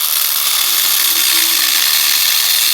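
A cutoff wheel grinds through the stock muffler of a Coleman mini bike, giving a loud, steady, high-pitched whine close by that does not let up.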